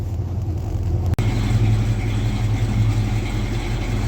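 A steady, low rumbling old truck engine idling close by, with an even throb throughout and one brief click near the start; no voices.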